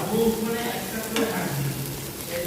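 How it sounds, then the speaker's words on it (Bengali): Vegetable stems frying in a pan with crushed garlic and green chili, a continuous close sizzle with stirring scrapes and a faint voice in the background. "রসুন আর কাঁচা লঙ্কা কম ছিল তাই থেতো করে দিয়েছি দিয়ে ভাজা ভাজা করে নিয়ে লতাগুলো ধুয়ে রেখেছি এখানে দিয়ে দেব"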